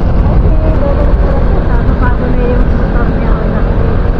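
A motorized boat runs on the Agos river, its engine a loud, steady, close drone with water rushing beneath throughout.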